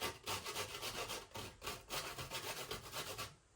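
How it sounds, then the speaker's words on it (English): A whole nutmeg is grated by hand on the coarse side of a grater while making Jamaican carrot punch. Quick, rhythmic rasping strokes scrape steadily and close up for a few seconds, with no voices. "So I'm gonna use this side to grate my nutmeg"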